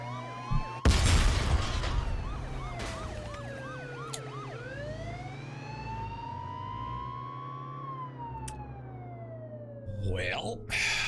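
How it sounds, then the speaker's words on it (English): Police car sirens wailing and yelping in a sweeping, rising and falling pattern, loud and close, with sharp crashes at the start and near the end and a voice heard alongside. "It's the sound of the police."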